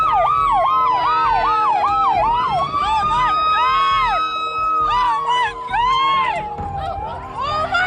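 Police car sirens wail and yelp in rapid sweeping cycles at a street protest in Sacramento where demonstrators block a main road, loud and close, with crowd noise underneath.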